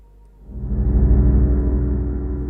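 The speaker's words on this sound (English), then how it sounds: "This is the sound of a minecart engine." A low, steady rumbling drone from a minecart engine in Minecraft's cave ambience swells up after a quiet start and holds loud and continuous to the end, with no talking.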